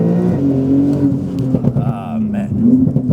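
A 900-horsepower Porsche 992 Turbo S exhaust pulls hard and loud close by, its note climbing steadily as the car accelerates, with a voice talking over the engine throughout.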